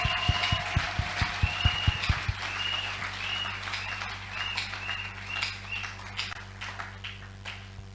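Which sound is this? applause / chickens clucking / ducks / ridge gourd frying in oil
applause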